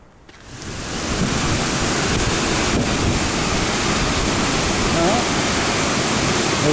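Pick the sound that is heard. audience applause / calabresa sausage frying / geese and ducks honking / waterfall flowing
waterfall flowing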